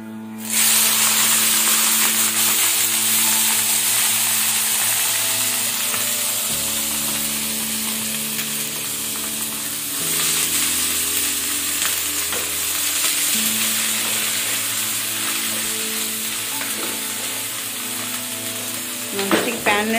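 Cabbage fries in a pan with cumin and mustard seeds, giving a loud, continuous sizzle and hiss with occasional stirring scrapes, and a low steady hum runs underneath.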